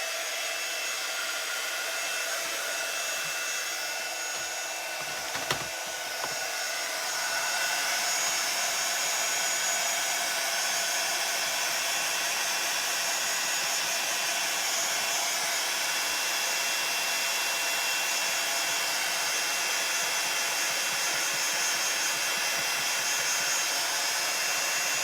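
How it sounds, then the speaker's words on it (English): A heat gun blows steadily while lightly drying freshly coloured heat-resistant vellum, a constant close airy whir like a hair dryer running alone for the whole stretch with no talk. "I'm just going to get my heat gun and I'm just going to dry these off just a little bit"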